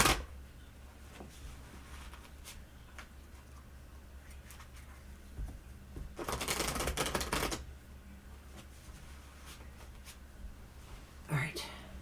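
A Steampunk Art Nouveau tarot deck is shuffled in one dense, riffling burst of a second or so, surrounded by quiet whispery talk and faint taps.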